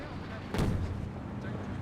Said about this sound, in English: Smoke rounds now firing away.